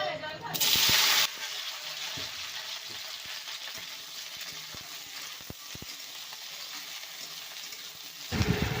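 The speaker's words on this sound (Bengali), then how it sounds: "এবার ভেন্ডিটাকে ভেজে নেব।" Okra frying in hot oil in a pan, a steady close sizzle running throughout, with a louder burst of spitting at the start as the okra goes in and again near the end.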